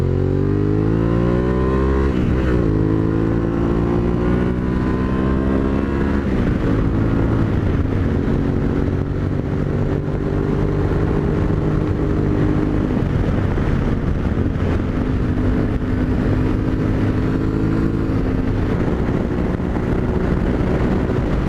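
Yamaha Tenere 700 motorcycle ridden at full throttle in fifth gear on a highway: a loud, steady engine drone with rising pitch sweeps as it accelerates, under constant wind rush.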